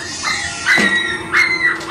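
A dog gives a few short, sharp yips and barks close by, with two distinct bursts.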